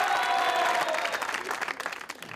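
Loud, dense applause from an audience welcoming a comedian on stage at a Pakistani comedy show, filling the stretch evenly and thinning slightly toward the end.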